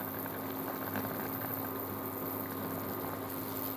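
Meat cutlets steaming in a covered pan with a bay leaf, giving a steady, even hiss and low bubbling simmer that holds constant throughout, with no voices.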